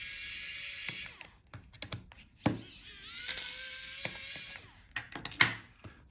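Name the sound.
removing speaker screws from HP Envy x360 laptop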